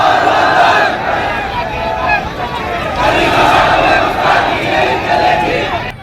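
A large street crowd at a rally in Latur shouts slogans in loud, rhythmic waves of massed voices. The chanting carries over a dense background of crowd babble and stays close and continuous.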